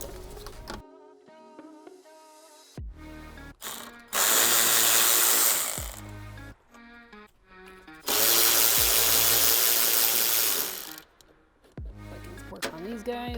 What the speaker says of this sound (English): I'm just going to loosen up these clamps real quick.